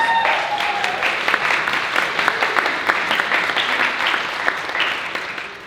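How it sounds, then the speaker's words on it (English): An audience at an education conference keynote applauds a speaker called to the stage, a full, steady round of many hands clapping that holds throughout and eases slightly at the end. "Give a round of applause to Jordan Norris."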